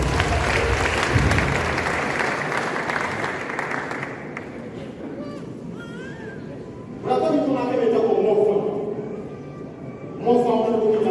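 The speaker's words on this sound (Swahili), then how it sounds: "Tupige makofi mengi" Applause from an audience at the Modern Furniture Pacific grand launch in Nairobi: a dense, loud burst of clapping for about four seconds that gives way to an amplified voice with music.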